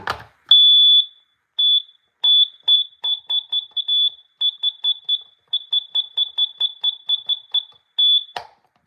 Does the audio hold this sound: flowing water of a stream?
no